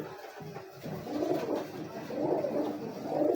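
A hefty female pigeon in a Gujranwala breeding loft gives rhythmic low coos, three swelling phrases in a row, close and clear with no talk over them.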